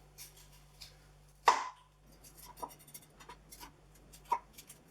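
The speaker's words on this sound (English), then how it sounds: "So we're just going to chop all the seeds out of these." A knife chops the seeds out of chillies on a board with a few quiet, irregular taps and scrapes, one sharper knock early on and another near the end.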